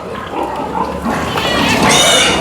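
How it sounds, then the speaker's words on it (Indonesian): A dense crowd of healthy pigs and piglets grunts and squeals continuously on a pig farm during sow and piglet separation, close and loud, with higher squeals rising near the end. "tuh banyak lagi babi-babinya yang mau datang"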